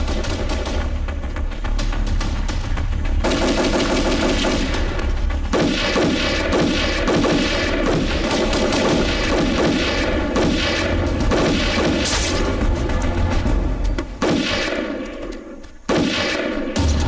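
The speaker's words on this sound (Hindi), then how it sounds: "फायरिंग हो रही है।" Gunfire in a Hindi devotional film comes as dense, loud bursts of shots and booms layered over a busy soundtrack for most of the stretch, briefly thinning near the end.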